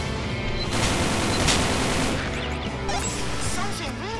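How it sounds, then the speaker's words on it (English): A rocket launcher firing in the video game Killing Floor, with constant loud blasts and explosions filling the clip and a voice speaking over the chaos. "isn't the this rocket launcher pretty good?"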